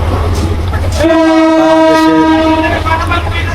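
A train sounds a long, loud horn at Burimari railway station in Lalmonirhat, Bangladesh, holding a steady tone for several seconds over the deep rumble of the idling locomotive and station noise.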